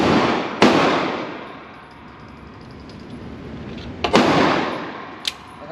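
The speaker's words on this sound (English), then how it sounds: "This one I'm about to shoot again with the 43X." Two sharp, loud Sig 43X pistol shots fired outdoors, spaced a few seconds apart, each with a quick decaying echo, followed by a fainter distant report.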